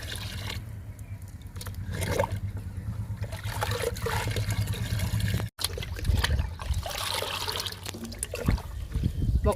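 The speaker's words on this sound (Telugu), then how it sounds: "ఇప్పుడు ఈ లిక్విడ్ని మొక్కలన్నిటికీ ఇచ్చేద్దాము" Liquid is poured onto potted garden plants such as fig and sapota, making a continuous splashing trickle close by with a brief break midway, under a quiet rumbling background.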